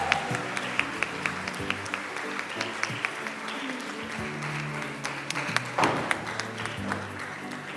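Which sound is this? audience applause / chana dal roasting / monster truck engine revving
audience applause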